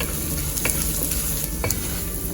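Coriander powder, red chili powder and biryani masala sauteing in a pan, giving a steady close sizzle with soft scraping stirs and a couple of sharper clinks, no voices.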